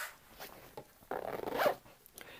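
A zipper on a Vanquest Trident 20 EDC backpack is pulled in short scratchy rasps that build into one quick louder zip. It is close by and quiet, with no voices.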